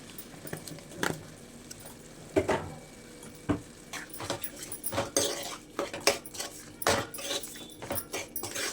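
A metal spoon stirs chicken curry ingredients with coarse salt and chilli powder in a pot, giving irregular clinks and scrapes against the vessel, close and fairly loud, with no talk.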